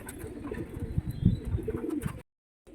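Pigeons coo softly at close range, low rounded calls repeating through the first two seconds with faint chirps and rustling, then a brief silence near the end.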